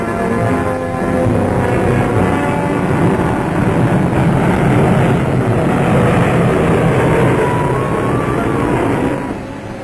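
Bristol Blenheim bomber engines drone steadily in flight, a loud, continuous broadband roar with no break, easing slightly only at the very end.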